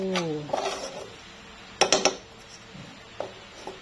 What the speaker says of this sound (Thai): คั่วต่อไปเรื่อยๆเด้อคลุกเคล้าเพื่อนเข้ากัน